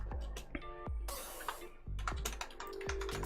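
Computer keyboard typing with a handful of distinct keystroke clicks and short bursts, moderately close, over a steady low background hum.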